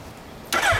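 Quiet hum, then a 2011 Suzuki GSX1300R Hayabusa sport motorcycle with an aftermarket r's gear Wyvern exhaust abruptly starts with a loud, throaty burst and revs briefly up close.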